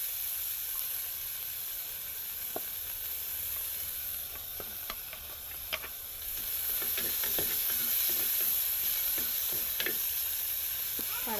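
Onion and garlic fry in a pan with a loud, steady hiss and crackle, broken by repeated light taps and scrapes of a stirring spoon.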